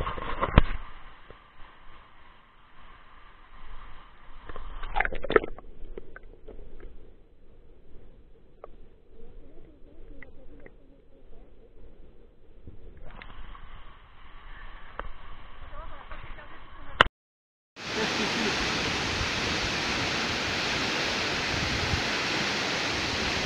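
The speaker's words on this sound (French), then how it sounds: "Test sous l'eau." Camera recording underwater at Cascada Blanca waterfall in Nicaragua: muffled low rumble and churning, then a short dropout before a loud, dense rush of falling water that fills the rest.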